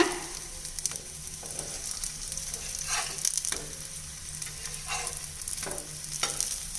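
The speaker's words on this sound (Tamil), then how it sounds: "இப்போ கொஞ்சம் எண்ணெயில் பரோட்டாவை கொஞ்சம் சுட்டு எடுத்துட்டு அதுக்கப்புறமா தான் நம்ம எண்ணெயில் பொறிக்க போகிறோங்க" A parotta fries in oil on a griddle over a medium flame: a close, continuous sizzle with occasional scraping and tapping as it is flipped and pressed.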